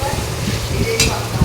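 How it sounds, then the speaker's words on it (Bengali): Potatoes sauté and get stirred in a hot pan for soybean curry, a short burst of soft sizzling with a spatula scrape near the end, close and moderately quiet. "আলুগুলো দিয়ে ভালো করে কষিয়ে নেব"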